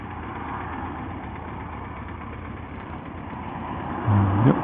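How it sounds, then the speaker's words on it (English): A motorcycle engine idles steadily while it warms up, an even mid-range mechanical throb heard from a short distance, with a brief louder blip near the end. "Yep, bike's warming up nicely."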